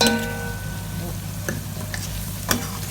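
Green chilies sizzle and fry in a pan while chicken biryani cooks, a steady close crackle with occasional stirring scrapes and clinks of a utensil against the pan.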